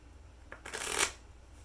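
A quick riffle of playing cards being shuffled, one crisp fluttering burst lasting under a second, close and fairly quiet.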